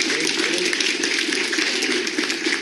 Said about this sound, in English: let's give a round of applause to Google for being